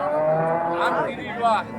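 A crossbred cow at a rural livestock market lets out a couple of close, loud, drawn-out moos, with faint background crowd chatter from the market.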